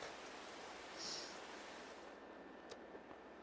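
A rain shower falls steadily in a farming video game, a soft, even wash of raindrops at low level, with a brief faint chime partway through.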